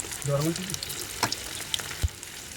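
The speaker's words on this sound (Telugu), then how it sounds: "ఆయిల్ పెట్టి పకోడీలు అయితే వేస్తున్నారు" Chicken pakoda frying in hot oil, a close bubbling sizzle with a few sharp clicks and knocks, and a brief voice-like murmur near the start.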